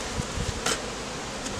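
A dense, steady hum of many honey bees buzzing close by inside a hive box packed with bees, with a few brief louder buzzes as individual insects pass near.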